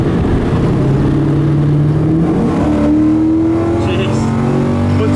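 An LS-powered 1980 Camaro's engine revs hard as it accelerates, the pitch climbing, dropping at a gear shift, then climbing again; a voice is heard briefly.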